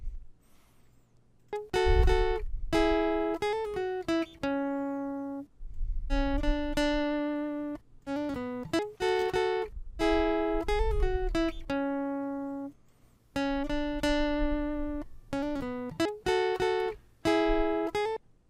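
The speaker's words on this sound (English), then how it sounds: "if we go too far we get kind of a volume swell effect" Synth or instrument phrases passed through a noise gate with a slowed attack, so each held note fades in with a soft swell before cutting off, repeating in separate bursts with brief silences between them.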